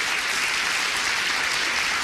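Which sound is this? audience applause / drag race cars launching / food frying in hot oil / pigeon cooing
audience applause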